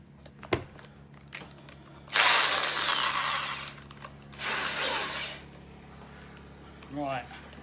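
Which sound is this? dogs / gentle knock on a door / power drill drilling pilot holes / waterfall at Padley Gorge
power drill drilling pilot holes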